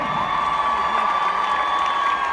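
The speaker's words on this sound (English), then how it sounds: "So give yourselves a round of applause." Large concert crowd at a live hip-hop show cheering and applauding, a continuous roar of voices and clapping with a steady high tone running through it, no clear talk over it.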